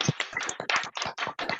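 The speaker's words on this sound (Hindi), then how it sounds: "दोस्तों, एक बार जोरदार तालियां होनी चाहिए" A short burst of quick, sharp hand claps, close and fairly quiet, like a small group applauding for under two seconds.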